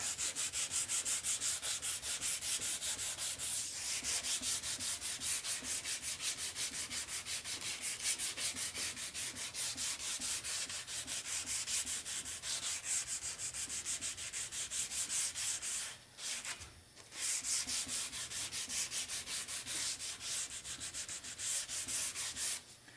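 Steady scratchy sanding of a small wooden chest lid with a sanding disc, a rhythmic back-and-forth rub, close up, continuing for a long stretch with one brief pause.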